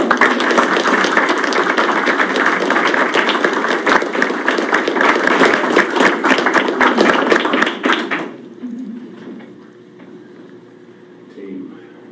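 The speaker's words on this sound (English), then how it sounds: "I'd like a round of applause for this outstanding team." An audience at a council meeting gives a team a loud, sustained round of crowded applause for about eight seconds before it dies away into quieter room sound and voices.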